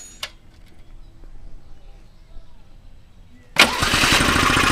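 A homemade mini tractor's engine starting: after quiet ticking and faint handling noises, the motor catches abruptly and settles into a loud, steady close-up idle.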